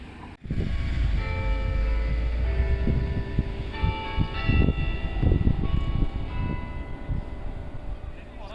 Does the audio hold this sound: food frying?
no